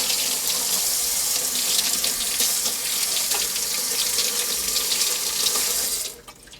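Tap water runs steadily into a kitchen sink while food for a Thanksgiving stuffing is rinsed, a loud, continuous splashing hiss that cuts off abruptly near the end.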